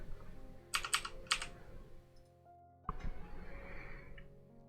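Bursts of typing on a computer keyboard, a few quick clusters of close, crisp key clicks separated by pauses, with quiet room noise between them.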